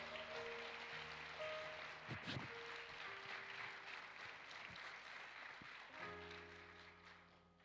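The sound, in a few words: congregation applause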